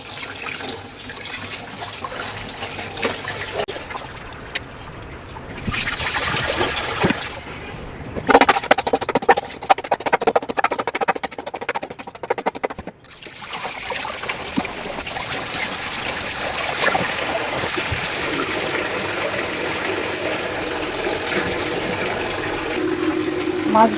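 Fish and meat being washed under running water: a tap streams and splashes continuously for about twenty seconds, with handling clatter, changes as the water hits the food, and a voice in the background at times.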